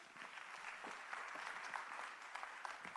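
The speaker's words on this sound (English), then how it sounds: "A round of applause." Steady audience applause at a heritage careers expo, dense and continuous clapping from a large crowd throughout, fairly distant and even in level with no voices over it.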